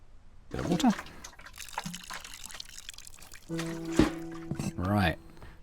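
Water trickles and pours onto a plant in the cozy puzzle game Botany Manor in short bursts, mixed with chiming game effects and someone talking over it.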